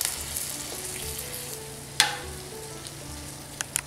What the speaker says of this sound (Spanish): simplemente voy a colocar sobre un sartén nuestros duraznos ya cortados con un poco de almíbar